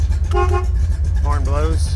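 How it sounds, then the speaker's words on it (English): Horn of a 1970 Chevrolet Corvette convertible, LeMans Blue with a 350 engine, sounding two loud, close honks in quick succession over a low rumble. "horn blows"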